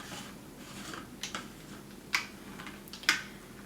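A plastic cap is twisted onto an Optimum juicer's juice cup, giving a few crisp, close clicks and ticks spaced irregularly over a quiet background.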